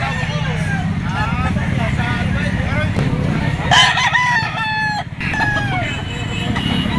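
Roosters and stags crow repeatedly at a busy poultry auction market in Lipa, their calls overlapping amid clucking, background voices and passing traffic.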